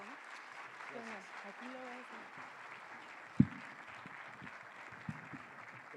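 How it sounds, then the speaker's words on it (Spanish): Audience applause at a law conference on criminal litigation in Mexico, a soft, steady clapping wash from a room crowd under a voice, with a couple of sharp close thumps. "démosle un fuerte aplauso a todos"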